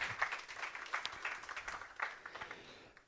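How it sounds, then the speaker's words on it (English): Faint, distant applause from a conference audience: a soft, uneven patter of many hands clapping that gradually tapers off. "Big round of applause, please."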